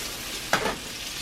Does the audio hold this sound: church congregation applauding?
no